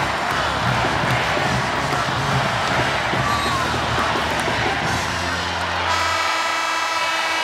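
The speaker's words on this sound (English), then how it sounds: "Nebraska fans cheering on the Louisville Cardinals" A packed arena crowd at the 2022 NCAA volleyball championship between Texas and Louisville roars in a dense, continuous wall of cheering that stays loud throughout before easing slightly near the end.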